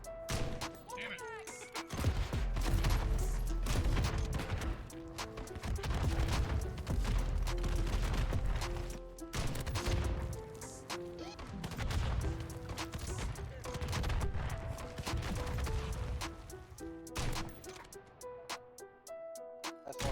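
Gunshots fired at targets in Final Fantasy XIV: Dawntrail, with repeated loud shot bursts in an uneven rhythm over a musical backdrop, and a voice talking now and then.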